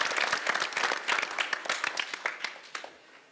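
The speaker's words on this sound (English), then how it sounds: "Please give a big round of applause." Applause from a school valedictory ceremony audience starts as a lively clatter of many hands, then thins into scattered individual claps and fades out toward the end.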